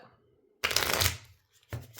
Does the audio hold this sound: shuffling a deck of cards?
yes